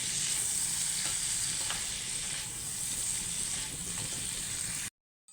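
Beef steak bites frying with potatoes in a pan give a close, continuous crackling sizzle with faint stirring taps, then cut off abruptly near the end.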